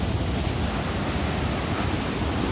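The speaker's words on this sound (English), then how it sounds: "Might be a bit loud around here because obviously the waterfall." Steady, loud rushing of a waterfall at an old mill, a constant broadband roar filling the air with no voices.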